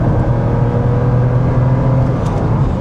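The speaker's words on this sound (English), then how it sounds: "this car doesn't have the sports exhaust, but it really does make a nice tone for having a standard exhaust" A base-model Porsche Boxster 986.2 on its standard, non-sports exhaust, heard from the cabin while driving: a steady, loud, low engine drone that holds evenly throughout, with no talking.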